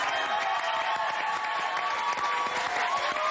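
A studio audience on a French reality TV magazine show claps continuously at a steady, moderate level throughout, with a faint voice underneath.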